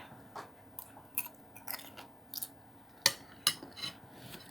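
Close, crisp chewing of a crunchy spicy Thai salad with crackling pork skin, sliced pork, mango, carrot and peanuts, with irregular bursts of crunching bites separated by brief quiet gaps.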